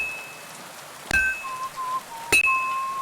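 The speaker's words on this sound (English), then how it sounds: "Whoa, it's really raining." Steady rain falls in Kingdom Come: Deliverance II, a constant wash of patter with two louder sharp impacts and soft tonal chimes from the game layered over it, no talk.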